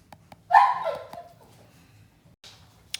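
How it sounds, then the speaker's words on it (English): Two dogs play together indoors and one lets out a sharp yelp after a bite, a single loud whining cry trailing off over a second, followed by faint scuffling and a small squeak. "those background sounds, I have two dogs, and they're playing together, and every once in a while one will bite the other, and he was yelping"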